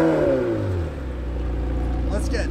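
A McLaren 720S supercar engine revs and then falls away in a sweeping drone, close and loud, with people talking over it.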